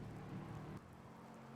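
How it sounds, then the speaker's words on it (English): Heavy rain in a racing video game, a dense, steady roaring hiss that drops slightly in level partway through, with no talking. "it's been raining all race, and the weather has just gotten heavier and heavier"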